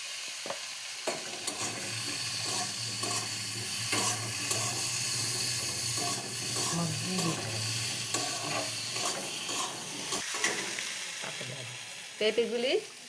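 Soybean chunks frying in a pan for a vegetarian dish, with a steady close sizzle and intermittent scraping stir strokes throughout.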